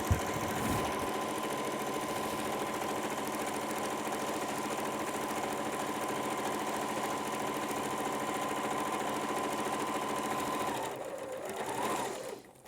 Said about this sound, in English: I start with a couple of stitches forward, back stitching to the end, and sewing along the seam